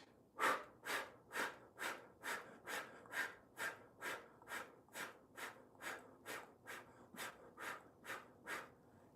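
Rhythmic breathing exercise with a steady series of about seventeen strong, close, breathy exhales following held breaths, each a loud airy rush with short gaps between, no talking.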